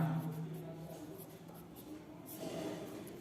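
Pen strokes labelling a geometry diagram during a Class 10 maths lesson on Thales and Pythagoras theorems: continuous close scratchy writing over a low room hum, with no speech.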